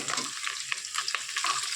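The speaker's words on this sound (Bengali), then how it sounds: "গরমে হাতা দিয়ে এখন তুলে নিচ্ছি মাছগুলো" Fried prawns lifted with a ladle from hot oil for a coconut prawn and taro stolon dish, making a close, continuous sizzle broken by short stirring scrapes.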